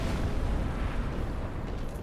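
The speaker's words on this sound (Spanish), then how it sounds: "no me ha dado tiempo a escapar antes de que haga la explosión" A boss's explosion attack in Dark Souls 3, a dense, roaring blast that fills the whole moment, rumbling continuously and slowly easing off.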